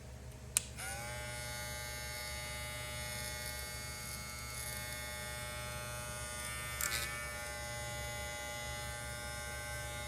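Wahl Senior 2.0 hair clipper running: a steady, fairly quiet electric buzz with a bright tonal whine, continuous throughout, with a couple of faint clicks near the start and around the middle.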